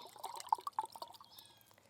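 Fish and seaweed liquid fertilizer poured into a hole in garden soil, faint close trickling and a few soft drips and plops, no talking.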